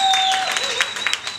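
Brief audience applause at a poetry festival grounding session, scattered claps rising and fading under a sustained tone and a voice in the background.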